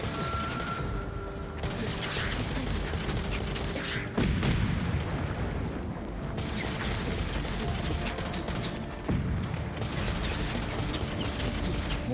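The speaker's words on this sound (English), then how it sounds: "Oh, who's firing?" Heavy booming gunfire and cannon blasts from ships in Ghost of Tsushima's battle, a dense continuous roar of artillery with a few stronger thuds breaking through.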